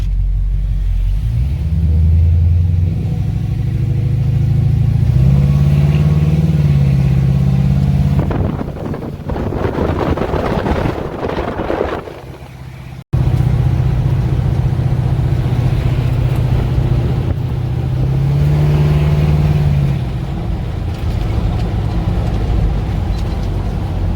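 A custom classic car cruises through city neighborhood streets, its engine giving a steady, close low rumble that swells briefly as it accelerates midway before settling back into an even drone.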